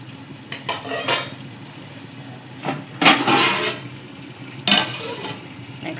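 Mixed biryani being stirred in a pot, a few separate scraping and clinking strokes of a metal spoon against the pot, close and moderately loud, with quiet pauses between them and no talking.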